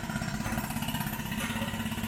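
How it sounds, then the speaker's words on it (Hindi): A jackhammer breaks up a residential street for sewer pipe work, giving a steady, dense rattling pounding that runs continuously and fills the scene. "ये सीवर का काम चल रहा है, जिसकी वजह से पूरी गली को तोड़ दिया गया है।"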